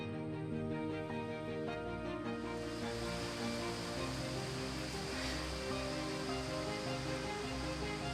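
A muddy river flowing steadily outdoors, a continuous loud rushing wash of water with no pauses and no voices.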